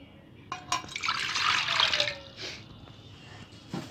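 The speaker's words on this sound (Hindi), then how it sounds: "इसमें थोड़ा सा पानी डालेंगे" Water is poured into a pot for steaming momos in a short splashing gush lasting about two seconds, then a few drips and a faint clink.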